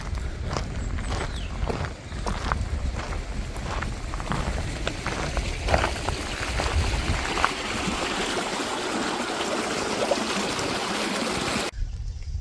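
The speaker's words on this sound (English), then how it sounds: "And here is the creek." A creek flows steadily at close range, its broad rushing water sound continuous for about twelve seconds, with occasional footsteps and faint handling bumps over it before the sound cuts off near the end.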